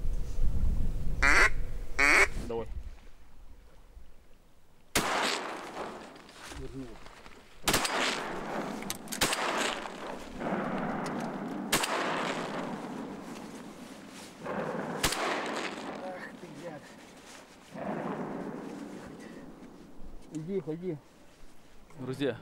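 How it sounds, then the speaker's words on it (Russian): Several sharp, loud shotgun blasts at ducks ring out at irregular intervals amid outdoor noise during a northern duck hunt, with duck quacks early on and people talking between the shots. "Первый выстрел Валентин выстрелил, он нырнул"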